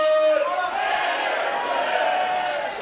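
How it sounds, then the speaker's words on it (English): Stadium crowd at a USL soccer match between Seattle Sounders FC 2 and Arizona United SC, a loud sustained roar of cheering voices that holds steady throughout, with a brief tonal horn-like note early on. "I love the crowd."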